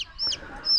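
Chickens on a farm in the Philippines give two short, sharp clucks close by, each a quick rising squawk with a brief pause between them.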